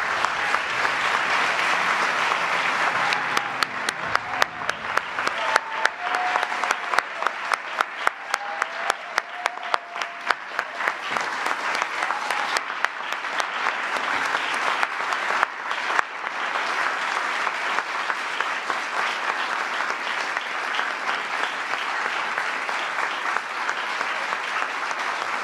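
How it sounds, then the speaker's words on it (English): Sustained audience applause fills a formal awards ceremony honoring women of courage, a dense, steady wash of many hands clapping that swells slightly and then holds at an even level throughout. "Please join me in a round of applause for all of our awardees."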